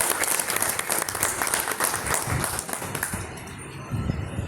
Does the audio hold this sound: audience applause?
yes